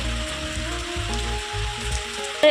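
Rain falls steadily outdoors in a constant, dense patter, with no voices and a brief loud knock right at the end.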